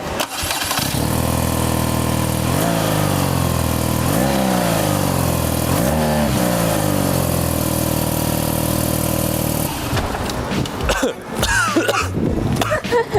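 A BMW R nineT Option719 boxer-twin motorcycle starts, then its engine revs repeatedly with rising and falling exhaust note, loud and close, before cutting off to voices and handling noises.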